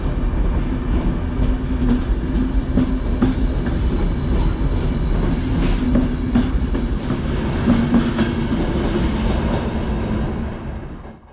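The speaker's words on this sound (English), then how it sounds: "departing here is one of FS Trenitalia's intercity notte sleeper trains." An FS Trenitalia Intercity Notte sleeper train departs, its wheels rumbling with steady clickety-clack over rail joints at close range for about eleven seconds before the sound fades slightly at the end.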